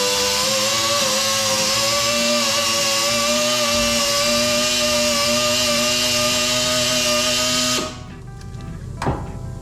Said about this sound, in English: I don't run the hone real fast RPM wise.